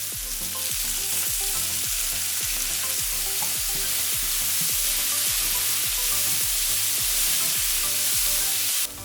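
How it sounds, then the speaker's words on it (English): Chopped white onions and minced garlic stir-fry in a hot pan, a loud continuous sizzle broken by regular rhythmic scrapes and tosses of the spatula, close and alone without talk. "we're going to add 1 cup of chopped up white onions. We're going to add 1 tablespoon of minced garlic."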